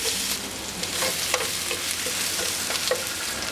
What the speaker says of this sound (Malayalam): വെളുത്തുള്ളി ഇതിലേക്ക് ചേർത്ത് കൊടുക്കാം